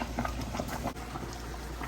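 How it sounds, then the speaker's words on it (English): Steady bubbling and hissing of water at a rolling boil in a pot, close by and continuous, with a faint low hum underneath. "So the water's boiling."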